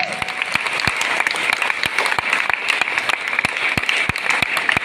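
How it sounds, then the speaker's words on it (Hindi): Audience applause at an event, steady dense clapping from many hands with a few sharp nearby claps standing out, sustained throughout without talk. "जबरदस्त तालियां मिस्टर सुरेंद्र कुमार जी के लिए, जबरदस्त तालियां साहब।"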